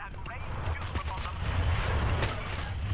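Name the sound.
strafing gunfire in Warhammer 40000 Battlesector video game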